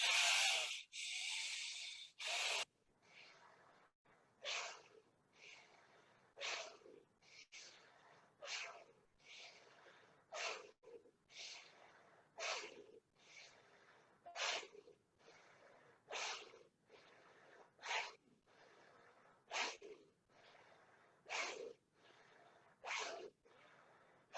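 Rhythmic, forceful breathwork breaths, a rapid series of strong nasal inhales and exhales in steady regular pulses, close to the microphone, after a brief louder opening burst.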